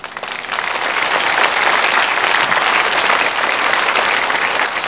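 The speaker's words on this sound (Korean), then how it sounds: "인사하실 때 박수로 환영해 드리겠습니다" Church congregation clapping in welcome during a Sunday worship service, a loud sustained wash of many hands that swells at the start and holds steady throughout, with no voices.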